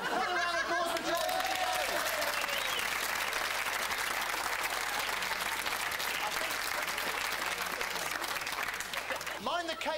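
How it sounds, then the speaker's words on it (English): Loud, sustained applause from a comedy audience for Joyce, a crowd clapping continuously throughout with bits of laughter, and a voice speaking briefly at the start. "Another round of applause for Joyce."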